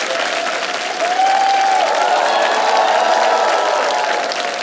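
An audience bursts into applause during a comedic stage performance, a dense, loud, sustained wash of clapping with a steady texture throughout.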